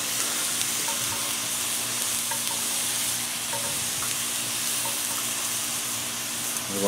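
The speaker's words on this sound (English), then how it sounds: "I got just a T-bone steak right here. We're gonna throw it on." A T-bone steak sizzles on a hot cast iron griddle pan, a loud, close, continuous hiss with faint crackles throughout and no talking.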